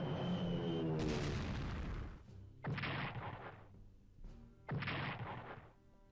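Bombing attack in the strategy game Strategic Command: World at War, a long rumbling blast followed by two shorter heavy explosion bursts, loud and close.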